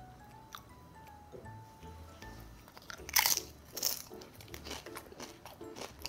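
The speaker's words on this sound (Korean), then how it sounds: "치즈 소스도 찍어 먹어볼래." Potato chips dipped in cheese sauce are crunched up close, with several crisp, sharp bites and softer chewing and squishy wet sounds between them in a quiet room, and no talking.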